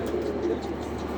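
Domestic pigeons in a loft coo steadily and softly at close range, a low continuous murmur of several birds with no talking.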